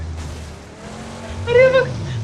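A car in the BGMI video game rolls over as its tires skid, with a low engine drone and then a short, rising tire squeal that peaks loudly before fading.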